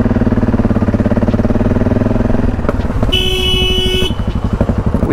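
Motorcycles, a KTM 890 Adventure R and a BMW R1250GS, ride along a road with a loud, throbbing engine rumble close by. Partway through, a long vehicle horn blares over the engine noise.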